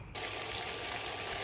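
Water gushes out suddenly after a brief moment and keeps flowing steadily in a garden, a loud, close rush like a tap or hose running full.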